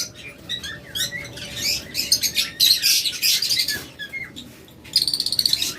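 Lovebirds, some females carrying eggs, chirp and squawk in a busy dealer's flock, with overlapping high calls throughout and a burst of rapid, loud chattering near the end.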